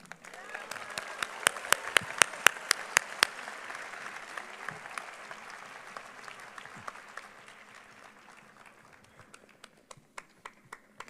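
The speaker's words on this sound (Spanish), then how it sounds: "recibamos, por favor, con un fuerte aplauso y muy cariñoso" Applause from the audience at a peace prize ceremony in Monterrey, Nuevo León, loud and dense at first, then thinning to scattered individual claps toward the end.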